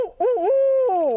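A person imitates a barred owl call, a loud, close hooting voice with rising and falling swoops, a brief break, then a long sustained hoot trailing off, alone without other talk.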